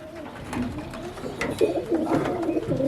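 Pigeons coo softly and repeatedly nearby, low throaty calls overlapping against faint background noise.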